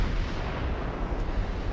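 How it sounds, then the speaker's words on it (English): Battleship guns fire in the naval warfare game Ultimate Admiral Dreadnoughts, a dense continuous low rumble of heavy gunfire and booms rolling together without distinct gaps. "they're starting to open fire on us as well"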